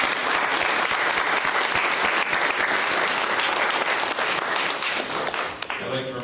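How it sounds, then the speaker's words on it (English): A ceremony audience gives sustained, dense applause for a high school color guard, steady and loud throughout before tapering off at the end. "Let's all please give them a round of applause."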